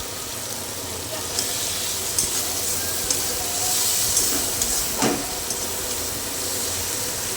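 Food fries in a pan at home with a soft continuous sizzle and hiss, occasional light clicks and scrapes, close but fairly quiet.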